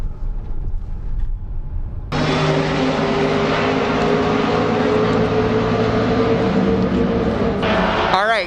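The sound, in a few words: race car noise at Lime Rock racetrack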